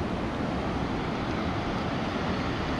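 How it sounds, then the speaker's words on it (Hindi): Sea waves roll in at Tithal beach in Gujarat after a night of heavy rain, a steady, full wash of surf and wind noise with no talking. "समुद्र की तो लहरें कल ज़्यादा थी, अब थोड़ी कम हो गई हैं"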